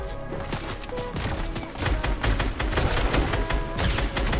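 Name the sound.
gunshots in a video game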